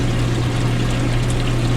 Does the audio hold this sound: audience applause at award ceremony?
no